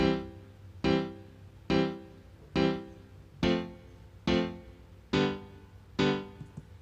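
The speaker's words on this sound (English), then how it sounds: "Apart from that, I just played a grand piano." Eight grand piano chords for a reggae beat struck one after another at an even, unhurried pace, each ringing briefly and decaying before the next, with no voices.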